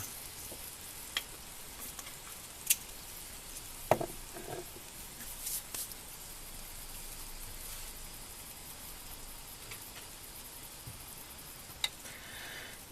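Mushrooms and carrots fry in butter and oil in a frying pan, giving a steady, soft sizzling hiss with a few faint clicks and pops throughout. No one speaks.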